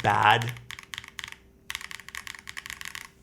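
Typing on a Float65 mechanical keyboard with a slightly tinny character: quick, close keystroke clicks in irregular bursts with a short pause partway, and a brief bit of voice at the very start.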